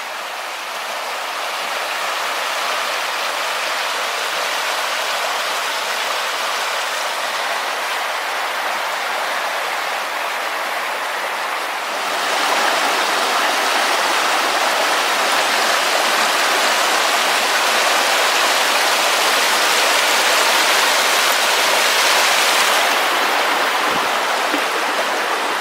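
Steady rushing water from Rock Creek on the Foothills Trail, a continuous broad hiss that grows slightly louder partway through, with no voices.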